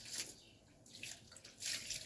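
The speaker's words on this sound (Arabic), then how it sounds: "لازم تدي شوية ماء للحيطان كده" Water splashed onto freshly laid brick walls of a bathroom during masonry work before ceramic tiling, arriving as a few short hissing bursts of spray and splatter close by, with no voices.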